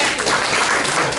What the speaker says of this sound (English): Hold your applause until afterwards.